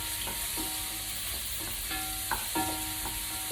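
Mushrooms sizzle steadily in a pan during risotto cooking, a continuous hiss of frying broken by a few light scraping stirs and soft clinks, with no one talking.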